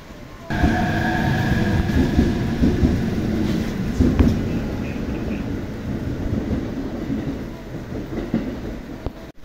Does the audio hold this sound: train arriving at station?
yes